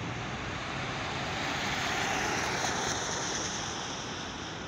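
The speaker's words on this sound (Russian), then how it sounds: "Самолеты выстроятся в цифру 75." Airplanes flying over the Moscow air parade make a broad, steady jet roar that swells slightly and fades. It is loud and continuous, with no voices over it.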